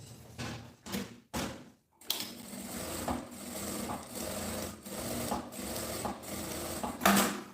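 A sewing machine stitches along a marked line on a gym bag, starting with a few short bursts, pausing, then running in a long steady whirring rattle with slight pulses.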